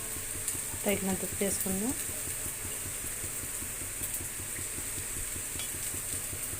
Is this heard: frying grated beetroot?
yes